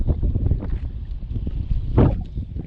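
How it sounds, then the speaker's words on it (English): Strong gusting wind buffets the microphone on a fishing boat out on open water in 20+ mph wind, a continuous low rumble with a louder gust burst near the end and no talk. "It is so freaking windy,"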